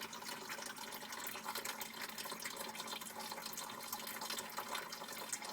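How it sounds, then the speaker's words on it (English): Hot water runs steadily from a newly installed kitchen faucet to flush the supply lines, a continuous, even hiss of flowing water filling the whole stretch with no talk. "now I'm just letting the hot water run out to flush the lines"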